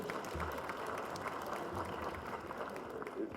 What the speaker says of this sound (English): Let's give them a proper round of applause,